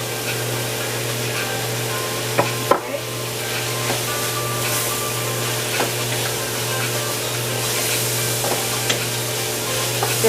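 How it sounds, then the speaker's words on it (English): Celery being stir-fried for chicken fried rice, a continuous close sizzle with a steady low hum underneath, a sharp clatter of utensil on pan near three seconds and a few lighter scrapes later. "It's going to be a nice stir fry."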